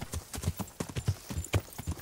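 Hooves of a horse clip-clopping in the medieval video game Kingdom Come: Deliverance, a quick uneven rhythm of hollow thuds at moderate distance, fairly quiet, with no voices over it.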